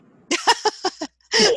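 A sneeze during a roll call in an online university psychology class: a few short, close bursts of breath and voice, then one sharp, broad sneeze at the end.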